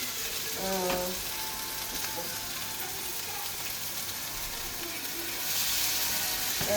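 Onion, tomato and dried red chili fry in a pan, a continuous close sizzle with occasional stirring scrapes and clinks, growing slightly louder toward the end.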